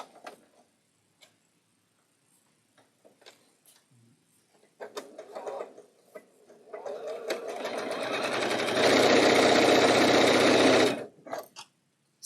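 A sewing machine stitches a quilt block, starting with scattered clicks and short bursts, then building into a loud, fast continuous run of needle chatter that stops abruptly near the end.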